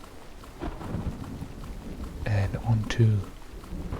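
Rain falls in a foggy forest in the game Minecraft, a steady soft patter with a few low rumbles, kept under a person talking.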